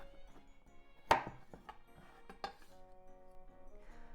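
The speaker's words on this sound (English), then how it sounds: "Let's cut the cucumbers. Cut both ends off." A knife chops the ends off cucumbers on a cutting board, two distinct sharp thunks about a second apart, close and clear in a quiet kitchen, with faint clinks between.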